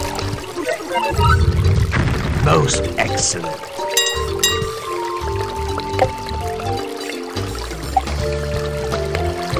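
Water poured over toys in the Legend of Kyrandia 3 adventure game: a gurgling, splashing pour swells in the first few seconds, then gives way to game music and sound effects while someone speaks over it.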